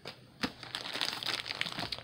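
A plastic bag holding fabric crinkles close up in a rapid, busy rustle lasting a couple of seconds, fairly loud and with no talking.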